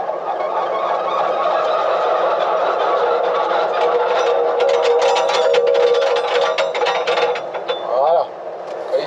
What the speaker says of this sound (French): si les couteaux tombent contre l'axe, c'est qu'il s'arrête